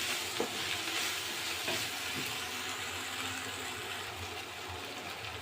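Chili powder, green chilies and coriander powder stirred into a pan of frying shol fish, a soft, steady sizzle with faint scraping strokes throughout.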